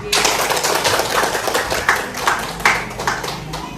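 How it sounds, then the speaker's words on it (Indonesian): Scattered clapping from teachers at an Indonesian school teacher-training presentation, a small group whose uneven claps come and go with faint voices in the background. "Kepada Ibu Putri kita beri tepuk tangan."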